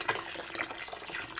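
Hot water pours from a tap into a basin for hand-washing clothes in a bathroom, a short, soft, splashy trickle heard alone.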